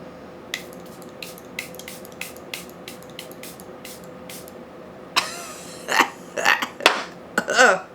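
Charlotte Tilbury setting spray is misted toward a face in several short, sharp hissing pumps spaced evenly, followed by louder, denser bursts and handling noise near the end, close to the listener.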